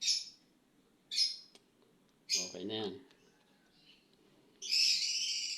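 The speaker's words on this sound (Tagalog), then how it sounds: "Para makita nyo yung mga ibon natin na alaga." Pet birds give shrill, high calls in short bursts, first two brief chirps, then a louder squawk and a longer call at the end, with a person speaking briefly between them.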